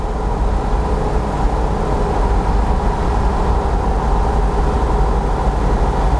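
Bradley GT II kit car cruising at 70 mph and about 3,000 RPM, a steady droning engine hum blended with constant road roar and slight vibration, heard from inside the cabin with no talking.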